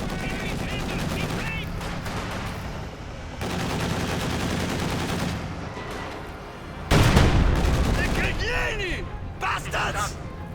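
MG42 machine gun fire in a World War II strategy video game, loud bursts of rapid automatic fire mixed with other gunfire and battle noise, with voices talking over it.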